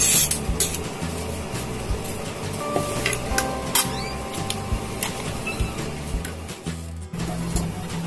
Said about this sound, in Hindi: अब हमने इसका पल्प निकाल लिया है, अब हम इसे मिक्सर जार में ग्राइंड कर लेंगे।